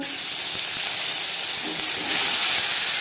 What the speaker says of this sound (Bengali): দিয়ে দিলাম একটা তেজপাতা, ছোট হাফ চামচ গোটা জিরে